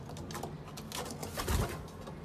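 Racing pigeons coo softly in a loft, a low murmuring burble swelling briefly near the middle of the short stretch over a busy, rustling background.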